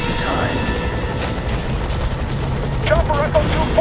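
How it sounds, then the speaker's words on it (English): A helicopter hovering overhead in the F.3.A.R shooter game, steady rotor drone under a busy game soundscape with a voice talking over it and brief electronic chirps near the end. "Chopper Echo 2-4 is right on top of you."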